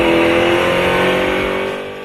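A redesigned 2015 Dodge Challenger or Charger muscle car engine revs loudly and steadily, holding a strong pitch close by before easing off slightly at the end.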